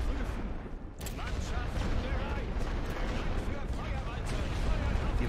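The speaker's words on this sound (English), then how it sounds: "Hit them with artillery again." An artillery barrage in the World War I video game The Great War: a dense, continuous roar of rumbling blasts with constant low thunder, while people talk over it.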